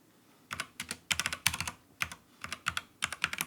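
Keyboard typing with brisk bursts of clicky keystrokes in short irregular clusters, close and fairly loud, no voices, as Linux terminal commands are entered on an Ubuntu server.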